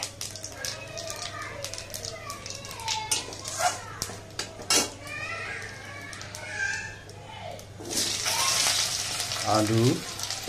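A bay leaf sizzles in hot oil as the tempering for a fish curry, with short sharp crackles and clatter from the pan, a low steady hum underneath and a voice speaking intermittently.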